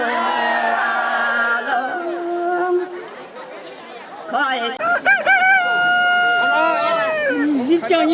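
Roosters crow repeatedly in a village during a traditional worship ceremony, long rising calls overlapping one another, loud and close, with crowd chatter beneath.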